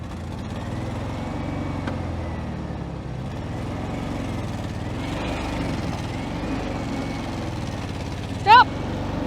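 An old VW Beetle engine, revived after ten years sitting in a junkyard, runs with a low, steady rumble. People talk nearby over it, and a short sharp squeal comes near the end.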